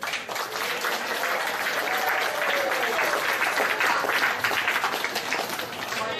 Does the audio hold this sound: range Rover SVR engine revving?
no